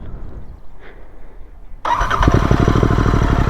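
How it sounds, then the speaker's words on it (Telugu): A Royal Enfield GT 650 motorcycle with a 648cc engine: quiet at first, then the engine starts abruptly and settles into a loud, close, rhythmic thumping idle from the exhaust. "ఒకసారి మీరు ఎగ్జాస్ట్ నోట్ అయితే వినండి"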